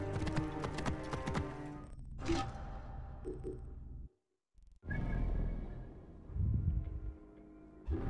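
Horse hooves clip-clop in the Assassin's Creed Origins video game, a steady mid-loud trotting rhythm that drops out briefly to silence and then resumes amid game sounds.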